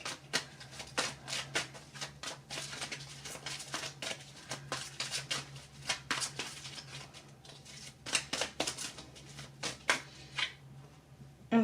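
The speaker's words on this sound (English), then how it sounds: "I'm going to go ahead and pull out some cards about how they feel about you now." Tarot cards riffled and shuffled by hand in a quiet room, a rapid run of crisp papery flutters and snaps over a low steady hum, with no talking.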